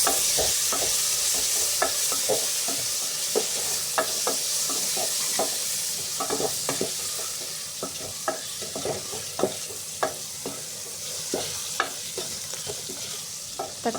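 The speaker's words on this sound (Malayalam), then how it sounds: "ഇനി നമുക്ക് കട്ട് ചെയ്ത് വെച്ച് തക്കാളി ഒന്ന് ചേർത്ത് കൊടുത്ത് നന്നായിട്ടൊന്ന് വഴറ്റിയെടുക്കാം." Chopped tomatoes and masala sautéing in a pan for dhal kichadi: a close, steady sizzle with regular scraping stirs of the spoon throughout, and no voices.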